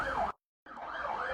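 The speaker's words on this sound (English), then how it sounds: "you can hear the siren of the fire service" Fire service siren wailing at a burning market, a loud rising-and-falling electronic wail that cuts out briefly and then resumes, steady and close.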